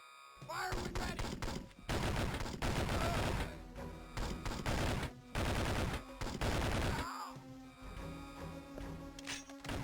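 Gunfire in the 2003 Game Boy Advance game 007: Nightfire, loud, dense bursts of rapid automatic shots in long volleys with brief pauses between them, thinning out toward the end.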